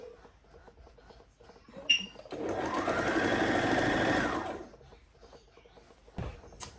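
A sewing machine runs a line of loose stitches down a zipper allowance on a sleeveless short gown, starting up, holding a steady mechanical whir for about two seconds, then stopping, with light handling clicks before and after.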